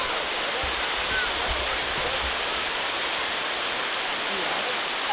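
Steady, dense roar of a waterfall near Rishikesh fills the scene continuously at a constant loud level, with faint low rumbles underneath.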